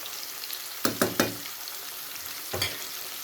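Faint steady sizzling of fish frying in oil, with a few soft clinks and scrapes of a utensil in the pan.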